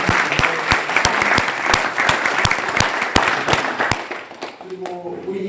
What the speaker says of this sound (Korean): 박수 한번 쳐서 격려 한번 해주십시오